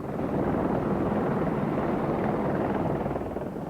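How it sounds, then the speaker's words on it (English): An Apache military helicopter flies close by in Macedonia, its rotor and engine a loud, steady, broadband roar with no break. "Part of the American firepower is the Apache helicopter"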